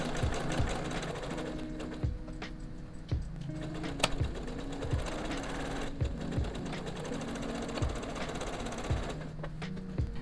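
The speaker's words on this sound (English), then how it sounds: "I did just sew over pins." A sewing machine stitching a quilt block of fabric, sewing over pins, runs in a steady rhythmic chatter with regular mechanical thumps, close and fairly quiet, with no talking.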